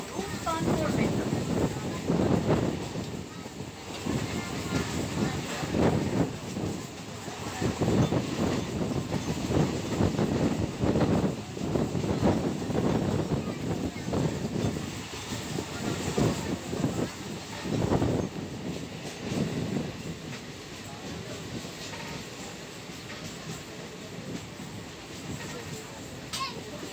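Inside a Tarakeswar-Goghat local train compartment crossing paddy fields: steady rolling rumble and rattling carriage noise, with scattered voices, children among them, under the din, easing slightly toward the end.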